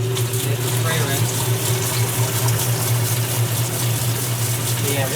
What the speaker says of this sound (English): This one's now done spinning, and it's going to fill for rinse.